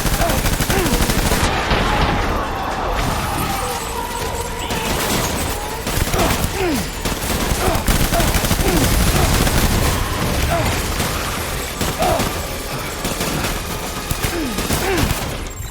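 Sustained gunfire in Death Stranding: dense, loud bursts of automatic fire and single shots rattle almost continuously, mixed with booms, clanks and shouted voices.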